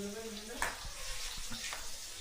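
Potatoes frying in a pan, cooked for a doi echor dish: a steady broadband hiss and sputter with occasional louder pops, moderately close, with faint voices briefly audible in the background.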